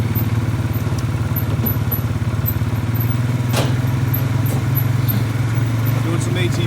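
An ATV engine running during trail work on a property, a steady close low drone with light clatter and a few sharp clicks on top.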